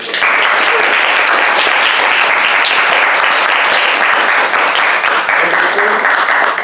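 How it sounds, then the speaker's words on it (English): A conference audience gives Professor Yano a sustained round of applause, dense and loud, steady from start to finish with no voices rising above it. "So let's give Professor Yano another round of applause."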